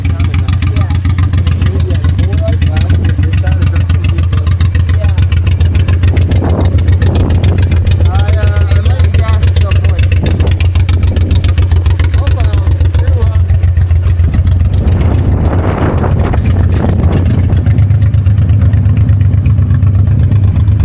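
Honda Shadow 1100 motorcycle engine running continuously, a loud, deep, steady low rumble close by with faint wind and road noise over it.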